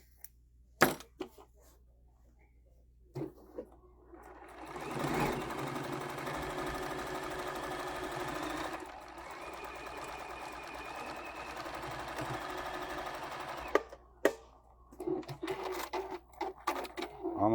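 A sewing machine stitches a quilt-as-you-go table runner in a steady mechanical whir of about ten seconds, with clicks and handling noise before and after and quiet voices near the end.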